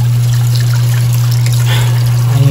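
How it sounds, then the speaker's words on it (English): Water running steadily from a tap, a continuous close trickle with a strong hum underneath, alone without talk. "Some water going."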